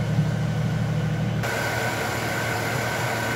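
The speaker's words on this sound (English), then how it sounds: "here's the engine running" A Jeep YJ with the 4.2 liter engine, running smoothly after a wiring upgrade, idles with a steady, even exhaust drone that stays constant and close throughout, with no talking.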